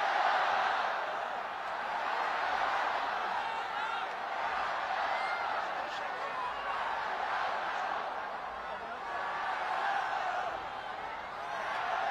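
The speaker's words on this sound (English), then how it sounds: "the crowd building up into a fever pitch of excitement now" A large stadium crowd roars and cheers in a sustained, swelling wash of noise ahead of Usain Bolt's 100-metre final, with a commentator's voice faintly mixed in.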